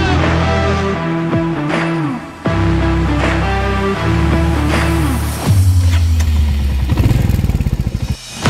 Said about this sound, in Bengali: স্টেশনের পাশে থাকা একটি বাইক রেন্টাল শপ থেকে এই বাইকটি ভাড়া নিয়ে বেরিয়ে